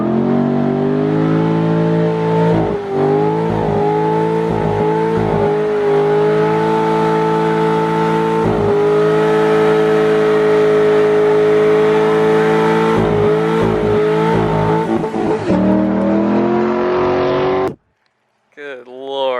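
A Mazdaspeed 6 doing a tire burnout, its engine holding a loud, steady high-rev roar with rhythmic dips and surges close by, ending abruptly near the end.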